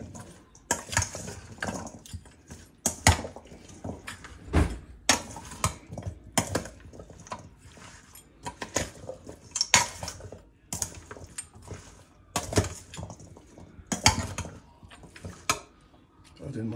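A spoon mixes goat meat and curry in a bowl, making irregular knocks and scrapes against the bowl in uneven bursts, fairly close, with faint background noise between strokes.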